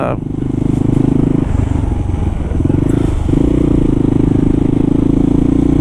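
A Kawasaki KLR motorcycle ridden through city streets in cold weather, its single-cylinder engine droning loud and close with gear-change dips in pitch, while a rider talks over the noise.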